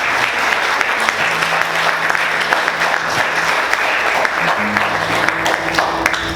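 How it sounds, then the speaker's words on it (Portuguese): A congregation at a Sunday church service claps loudly and continuously, a close, full roar of hands with sharp individual claps standing out, while faint sustained tones sound underneath. "Vamos aplaudir o Senhor bem forte."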